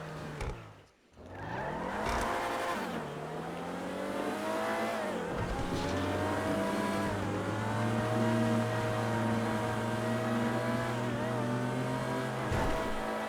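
Race car in GTA 5 held at full throttle, its engine roaring steadily with rising and shifting pitch through gear changes, loud and close, after a brief cutout near the start.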